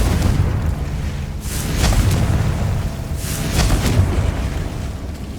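Two loud Confringo blasting-spell explosions from Hogwarts Legacy burst out about a second and a half apart, over a steady rumbling game background.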